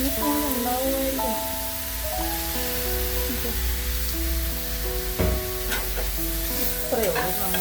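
Sausages sizzle steadily in oil in a pan and are stirred over a lowered flame, a continuous frying hiss with occasional scrapes, while tonal background music plays throughout.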